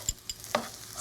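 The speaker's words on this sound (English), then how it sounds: "Do you hear the noise? Do you hear that? I do, that sizzle." Celery and red bell peppers saute in a pan with a soft, steady sizzle, broken by a few quick scraping clicks as a utensil stirs them.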